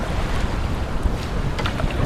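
Strong, cold wind blowing steadily over open water while paddling, a continuous loud roar and buffeting against the microphone with splashing wash beneath, close and unbroken.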